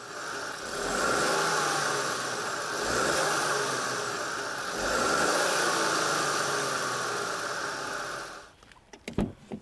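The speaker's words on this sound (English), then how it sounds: "The vehicle boasts a widely developed 3-cylinder turbocharged engine." A small three-cylinder turbocharged car engine hums steadily with gentle swells in revs, then fades out, followed by a few sharp clicks and knocks at the end.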